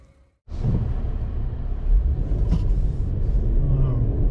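A 2022 Infiniti Q60 Luxe AWD coupe pulls away and cruises, with a steady road and engine rumble joined by tire noise and a soft whoosh of air around the car.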